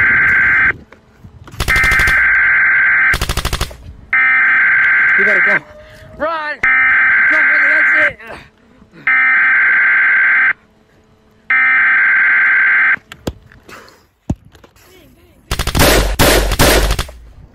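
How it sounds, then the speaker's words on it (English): A video game alarm blares in repeated loud buzzing bursts of about two seconds each with short gaps, interspersed with sharp gunfire-like pops and game sounds, ending in a burst of rapid shots. "Hey, they sounded the alarm."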